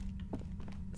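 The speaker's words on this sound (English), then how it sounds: "Footsteps." Footsteps in the video game Disco Elysium, a few soft, quiet thuds in quick succession over a low hum, with no talking.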